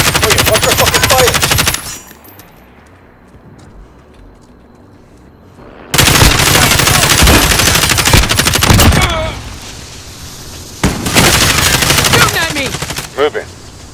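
Gunfire in the Call of Duty Modern Warfare video game, with loud sustained machine-gun bursts and a short pause, then more heavy volleys and scattered blasts, with shouted voices in between.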